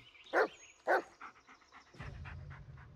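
A dog in the Blair Witch video game gives two sharp barks, followed by quick rhythmic panting and a low rumbling growl-like texture near the end.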